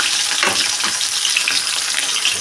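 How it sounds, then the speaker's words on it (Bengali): Chopped onion frying in hot oil with white cumin seeds makes a loud, continuous crackling sizzle, with stirring scrapes rising and falling close by. "এখন আমি পেঁয়াজটা দিয়ে দেবো।"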